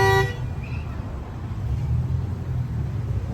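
A short car horn toot right at the start, followed by steady low traffic rumble for the rest.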